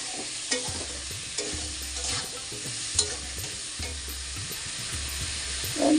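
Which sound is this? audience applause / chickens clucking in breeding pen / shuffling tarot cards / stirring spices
stirring spices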